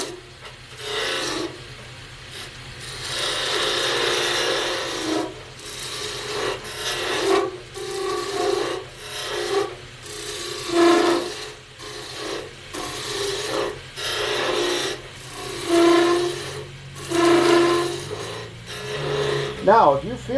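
Skew chisel cuts a V-groove into spinning wood on a lathe, a steady rasping scrape in repeated strokes with brief pauses between passes, close and loud, with occasional talk underneath.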